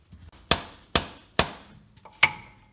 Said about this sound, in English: just take a dead blow hammer on the other end and just knock it into place